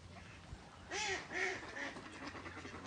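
Ducks at a delta bird sanctuary let out two quick nasal quacks in succession, fairly close, against a quiet outdoor background.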